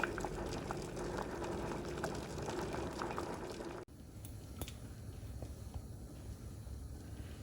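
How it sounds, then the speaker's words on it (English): Rice and peas boil in a pot with a soft, steady bubbling that continues throughout, briefly dipping midway and then resuming a little quieter. "we're going to let it sit and boil for a few minutes"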